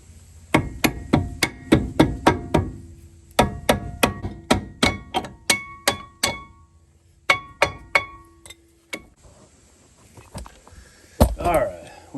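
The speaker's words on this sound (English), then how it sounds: "with a little coaxing with a rubber hammer, I got it on" A rubber hammer taps repeatedly on a front brake caliper of a Chevy G30 one-ton van during a brake pad replacement, giving a series of close, sharp knocks in steady bursts with short pauses.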